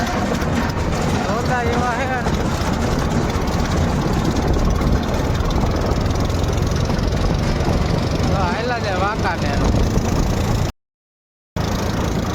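A steady low engine drone rumbles throughout, loud and close, with faint voices and brief chirpy sounds mixed in before a sudden cut to silence.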